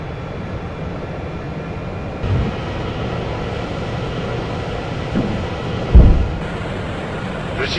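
A British Airways airliner takes off from a runway at Biggin Hill, giving a steady, broad engine roar that holds throughout with a few brief thumps and a swell near the end.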